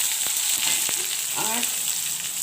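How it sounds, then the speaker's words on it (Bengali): Eggplant frying in a pan gives a steady, bright sizzle throughout, with a few brief clicks and light stirring sounds, close by. "তো বেগুনটা ভালোভাবে ভেজে নেবো।"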